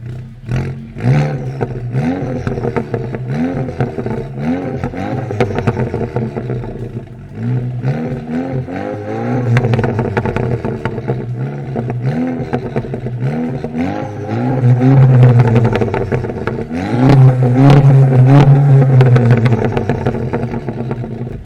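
A VW Golf GT engine revs repeatedly, loud and close, with rising and falling throaty roars in several bursts that build to longer, heavier revs near the end, with no voices.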